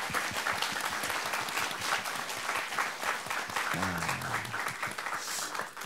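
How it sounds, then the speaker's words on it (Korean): Studio audience applause during a first-anniversary special broadcast, a steady, close wash of many hands clapping, with a brief murmur of voices partway through. "함께 박수 한번 해주시기 바라겠습니다"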